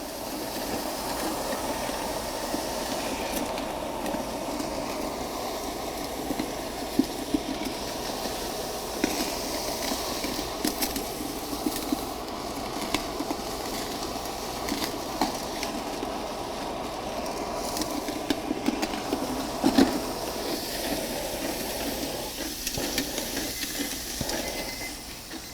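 A laboratory mixer churning a heated asphalt sample, a steady broadband whirring rumble with a hiss on top, constant throughout with scattered small ticks and knocks, running alone without talk.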